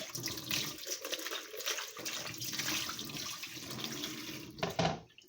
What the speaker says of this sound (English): So I've got my bowl here. I'm just going to give it a rinse.